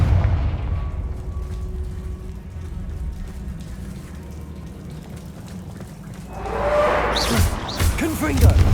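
A Confringo blasting spell explodes in Hogwarts Legacy, a loud rumbling boom with a sharp crackling burst toward the end, over constant low game noise and voice.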